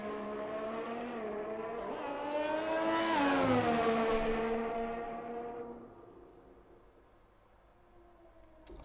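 A Ferrari race car in a racing video game, set at the Hungary circuit, pulls out with a harmonic engine note that rises as it revs up, peaks, then fades away, ending in a short click.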